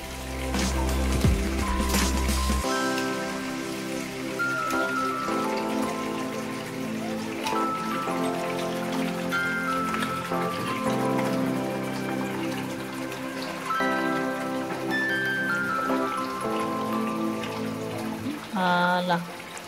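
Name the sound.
rinsing pork meat in water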